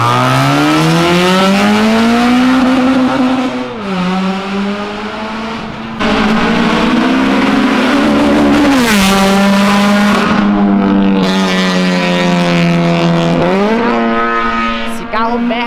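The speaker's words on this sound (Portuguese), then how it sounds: "Esse carro tá com ronco maravilhoso, mano." A car engine roars hard as it accelerates at night, loud revs climbing and dropping through several gear changes, with a brief dip in the middle before surging again up close.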